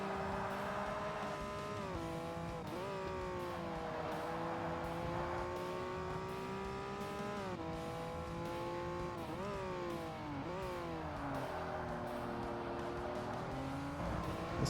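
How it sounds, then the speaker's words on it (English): A Ferrari race car engine in Forza Motorsport on Xbox revs high and steady, rising and dropping in pitch through repeated gear shifts, with occasional tire squeal, continuous and fairly quiet throughout. "This Ferrari is fast as shit."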